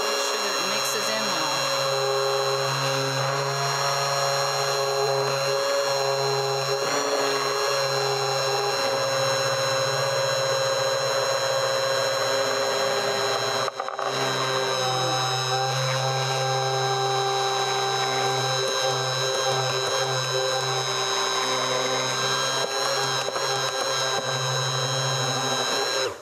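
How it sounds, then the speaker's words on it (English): An electric mixer whips a thickening winter lip serum containing hyaluronic acid, giving a steady motor whine with layered harmonic tones that runs continuously at close range, with a brief dip midway and a voice speaking over it. "Now you can hear by my mixer that it's gotten much thicker, so we're going to turn up the speed again."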